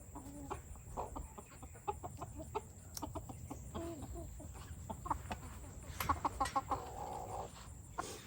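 Chickens in a small coop, an American breed rooster with two hens, cluck in short scattered bursts at close range. The calls are faint and irregular, with a few louder notes near the end.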